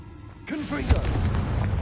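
A Confringo blasting curse in Hogwarts Legacy goes off as a sudden booming explosion with a rumbling tail, preceded by a short shouted voice.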